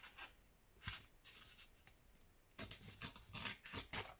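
Paper torn off by hand while crafting a tag pocket accordion, a series of close, quiet rasping rips and rustles that grow denser and louder toward the end, with no talking.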